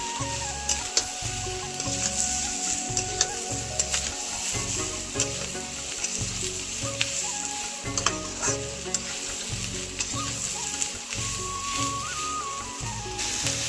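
Vegetables sizzle and crackle in a hot pan for a Chinese-style dish, a dense continuous fry with rhythmic scraping stirs and occasional sharp pops, close and alone without talking.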